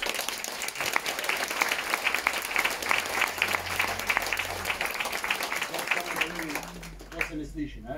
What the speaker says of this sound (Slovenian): Dragi Marjan, en velik aplavz.